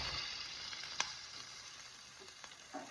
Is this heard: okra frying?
yes